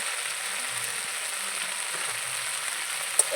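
Ground coriander, cumin, turmeric and salt fry with Malabar spinach stems in a pan, making a continuous, even close sizzle with one brief clink near the end.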